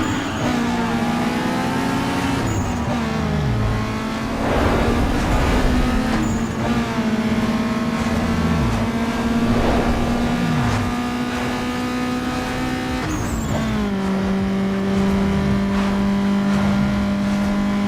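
A race car engine drones and revs steadily in Need for Speed Underground 2. Its pitch climbs through each gear, drops sharply at the shifts and climbs again, loud and continuous throughout.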